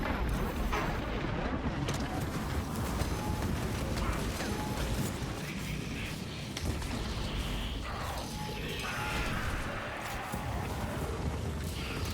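A pyrecannon weapon fires continuously in a Warhammer-style shooter, a dense, loud roaring blast of flame and bursting impacts that fills the whole stretch with little let-up.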